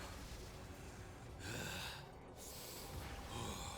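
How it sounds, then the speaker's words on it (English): Boss character in Genshin Impact panting from fatigue, heavy breathy huffs repeating in slow waves over steady noise, close and moderately loud. "Is that Bosacious? Panting?"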